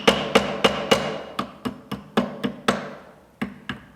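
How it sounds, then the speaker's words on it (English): A rawhide hammer strikes a silver ring on a steel mandrel, giving about a dozen sharp, close taps in an uneven rhythm with brief ringing decays. "Placing the mandrel over and hammering with the rawhide hammer."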